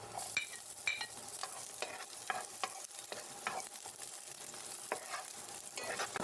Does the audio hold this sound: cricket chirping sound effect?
no